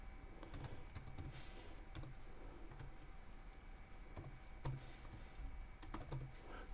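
Keystrokes on a computer keyboard as a keyword is typed into a YouTube channel settings field: quick clustered bursts of close, soft clicks separated by brief gaps, with no talking.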